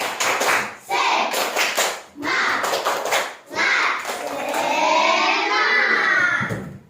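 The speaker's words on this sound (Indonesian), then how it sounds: "Yuk, tepuk semangat." Schoolchildren in a classroom perform a rhythmic clap-and-chant, bursts of group clapping alternating with shouted voices, ending in a sustained unison chant, loud and close.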